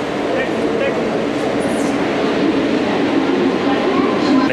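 A Mumbai local train runs with a loud, steady rumble and rattle, with occasional faint squeals, and voices are heard talking over the noise throughout.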